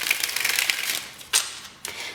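Tarot cards are shuffled close up in a quick run of crisp riffling flicks, then two brief sharper card snaps follow.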